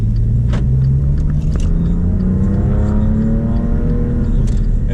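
A Maserati engine revs loudly and continuously up close, its pitch climbing steadily as it accelerates in one gear, with a deep rumbling growl throughout.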